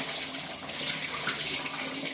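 Tap water runs steadily and fairly loud while rice is rinsed for idli and dosa batter, a continuous splashing rush with no talk.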